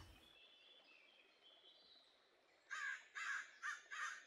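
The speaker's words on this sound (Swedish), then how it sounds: "En fågel som var tillbaka." A bird caws four times in quick succession inside a fantasy video game set in Ossyria, the harsh calls loud and close after a stretch of quiet ambient game music.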